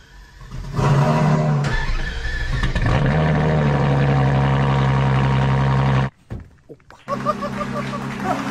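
A Ferrari LaFerrari supercar's engine roars steadily at close range, then cuts abruptly to near silence under hard braking before resuming with a lower rumble and tire noise.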